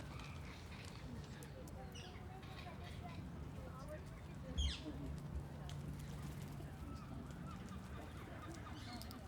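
Ducks at a small, manicured exotic garden pond among palm trees in Monaco give faint, scattered honking calls over a steady outdoor background, with a brief louder call midway and voices murmuring in the distance.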